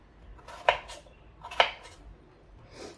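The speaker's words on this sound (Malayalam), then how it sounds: "ഈ ഒരു രീതിയിൽ കട്ട് ചെയ്തെടുക്കാം" Potatoes cut with a knife on a board for a green peas potato curry, two sharp separate knocks about a second apart against quiet kitchen background, close and without talk.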